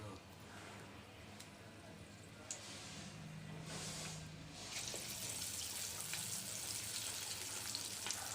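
Banana flower vada with onion frying in hot oil, a steady soft sizzle and bubbling throughout, with a brief louder hiss partway through.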